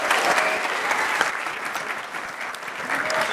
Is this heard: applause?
yes